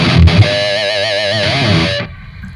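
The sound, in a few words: guitar through LEKATO Tank G effects processor, gain all the way up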